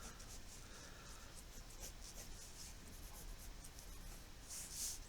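A pen scratches and rubs across paper in a steady, continuous stroke while a cartoon karate turtle on a bike is sketched, close and fairly quiet, with no voices.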